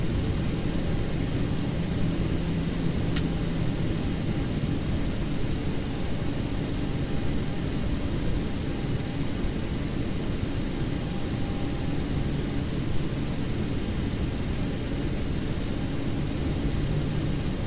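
A simulated Air India Express Boeing 737-800 in X-Plane 12 lines up on runway 27 at Kochi, its engines giving a loud, steady, unbroken roar throughout.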